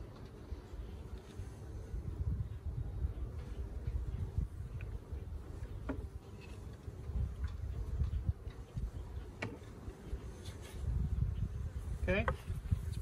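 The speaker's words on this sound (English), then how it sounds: "Brush off the bees." Steady low buzzing of many honey bees in an open hive with its top box removed fills the clip, a dense close hum with occasional louder passes.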